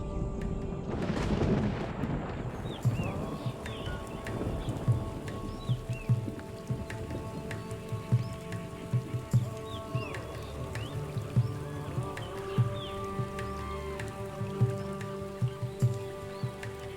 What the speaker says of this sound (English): Just a few showers at first